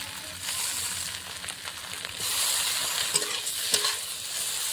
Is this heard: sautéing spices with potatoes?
yes